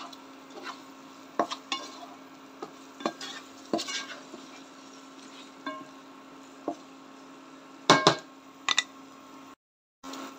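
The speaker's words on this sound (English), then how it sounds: "Nitakoroga." A spoon stirring tomato sauce with meatballs in a cooking pot, soft scraping strokes repeating at an irregular pace over a low simmer, with a few sharper clinks of metal against the pot near the end.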